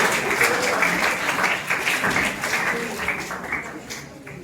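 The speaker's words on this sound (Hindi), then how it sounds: "जोरदार ताली बच्चों के लिए।" Audience applause for schoolchildren winning places at a block-level quiz competition, a steady wash of many hands clapping at moderate loudness that eases slightly toward the end, with a faint voice underneath.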